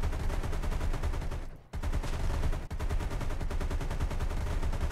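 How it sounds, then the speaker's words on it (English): Vehicle-mounted machine gun in the Minecraft MCHeli mod fires rapid continuous bursts, a dense loud rattle of shots with two brief pauses before resuming, no voices. "There's also a machine gun,"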